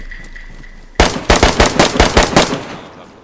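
Automatic gunfire in the video game DayZ bursts out suddenly after a quiet stretch, a loud close rapid string of about a dozen shots that trails off.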